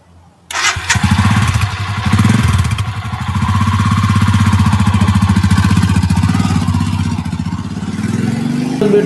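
A Royal Enfield Scram 440 motorcycle fires up and settles into a loud, steady engine rumble, close by, with a brief throttle swell early and no voices.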